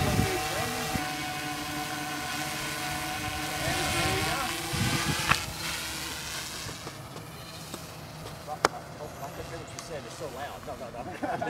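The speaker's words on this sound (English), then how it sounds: "It's a remarkably quiet aircraft." A DJI Inspire drone flies nearby, its rotors giving a thin, steady whine with shifting tones as it moves. Wind buffets the microphone and there are a couple of brief knocks.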